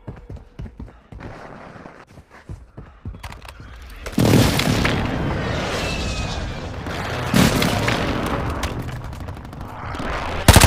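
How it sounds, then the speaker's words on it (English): Heavy airstrike blasts and gunfire roar in Warzone Mobile, a sparse crackle of shots giving way after a few seconds to a loud, sustained barrage of explosions with a second surge near the end. "Hostile airstrike incoming."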